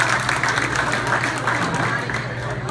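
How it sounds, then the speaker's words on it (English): Audience applause honoring Judge Richard Vara's staff at a celebration event, a steady dense wash of clapping sustained throughout, with some voices mixed in. "just give all his staff a big round of applause"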